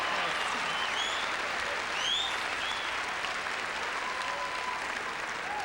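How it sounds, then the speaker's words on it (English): A comedy club audience at a 1993 stand-up show applauds in a dense, steady wash of clapping that stays loud and even throughout, with no voice over it. "Biggest applause is when I sing."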